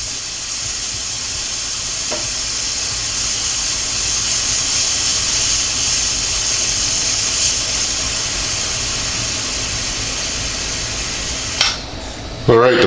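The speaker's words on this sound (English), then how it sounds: "Alright, the pressure is released." Steady pressure release hiss from an Emeril Lagasse pressure air fryer after cooking hard boiled eggs, a continuous broad rushing sound lasting many seconds before a few clicks and clatter at the end.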